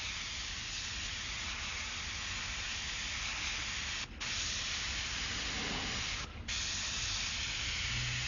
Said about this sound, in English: It's like coloring between the lines with the airbrush, doing a very thin line with it.